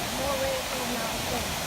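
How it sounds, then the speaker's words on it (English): Steady, even rushing hiss of a waterfall in El Yunque rainforest in Puerto Rico, continuous and moderately loud, with a faint tonal whine running through it. "Waterfall."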